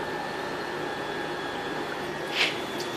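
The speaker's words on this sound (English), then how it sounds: "Basically just using this vacuum pump" A vacuum pump runs with a steady, dense mechanical hum and hiss while drawing oil out of a large thermal hydraulic actuator on a heat engine, constant and close, with a brief sharper hiss near the end.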